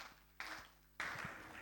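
Soft applause from a church congregation welcoming the pastor at a Sunday service, a faint wash of clapping that swells in two waves, distant and diffuse in a large room.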